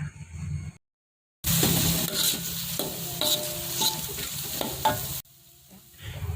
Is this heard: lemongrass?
yes